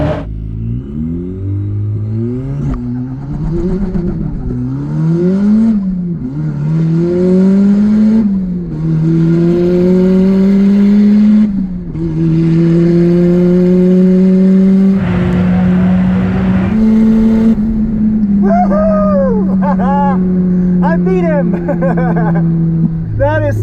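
An offroad Miata or 3000GT rally car accelerates hard at a drag race. The loud engine pitch climbs and drops repeatedly through several gear changes, then holds a steady drone at speed.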